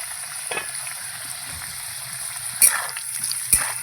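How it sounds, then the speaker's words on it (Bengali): Potatoes fry in a covered pan with a steady low sizzle, broken by two louder clattering bursts, probably from the lid or the pan, as the cooking carries on in a kitchen. "এই আলুটা ভাজবো এবার"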